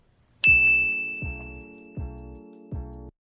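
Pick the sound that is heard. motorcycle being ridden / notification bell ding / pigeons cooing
notification bell ding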